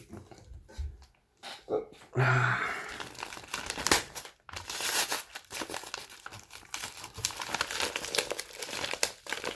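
A Pokémon card parcel being opened, with close, irregular crinkling and rustling of plastic packaging in uneven bursts, plus a few sharp tearing sounds and soft knocks.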